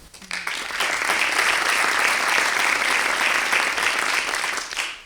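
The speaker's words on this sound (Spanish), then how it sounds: "Os estoy dejando tiempo para que aplaudáis" Audience applause at a poetry book presentation, a steady burst of clapping that rises quickly, holds even and loud for several seconds and then tapers off.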